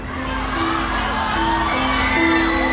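Concert crowd at a 30th-anniversary tour show in Pontianak screams and cheers loudly and continuously, a dense roar of voices with whoops and shouts throughout.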